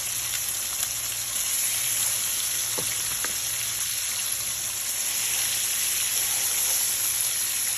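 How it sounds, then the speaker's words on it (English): Chicken thighs fry in a pan on high heat, a loud, dense, continuous sizzle with a couple of faint clicks, no talk. "I do have this on high heat because quite a bit of thighs are going in here"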